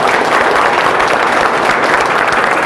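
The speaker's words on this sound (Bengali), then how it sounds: "তো তার জন্য আবার হাততালি দাও।" Students at a defence academy New Year celebration clapping together, a loud, dense burst of applause sustained evenly from start to finish.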